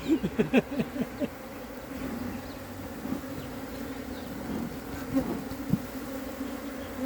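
Steady, dense buzzing of many honeybees close by during a hive transfer, with a few louder individual bees zipping past early on, and no talking.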